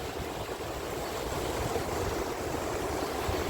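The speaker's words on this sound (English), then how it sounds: "There's the old mill. There's it flowing." River water flows past an old mill, a continuous rushing wash heard from nearby with some wind noise on the microphone and no talking.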